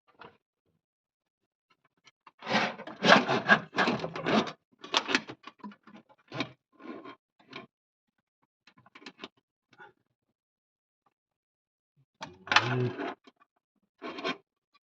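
A speedometer cable on a Morris Minor is pulled through a rubber grommet, making close, quiet scraping and rubbing bursts that come in irregular spurts with silent pauses between them.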